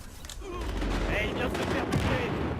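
Gunfire in Battlefield Hardline multiplayer comes as a busy mix of rapid shots and bursts over a dense game soundscape, loud and close, with a voice talking over it.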